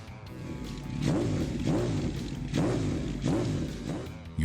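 A Suzuki GSX1400 muscle bike engine revs repeatedly, rising and falling in about four deep, throaty surges at close range.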